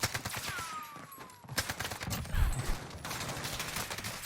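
Rapid automatic gunfire from the video game Warzone crackles in dense bursts, loud and near, firing almost nonstop with brief gaps between the volleys.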